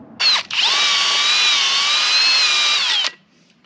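A power drill with a wire brush cleans a brake caliper, whining at high speed for about three seconds after a brief initial burst, its pitch wavering slightly as the brush bites, then stops.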